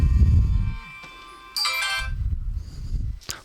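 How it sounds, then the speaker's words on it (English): A mobile phone ringtone chimes with bright tonal melody notes, mixed with low rumbling handling noise, close and fairly loud. "my mobile phone was just ringing."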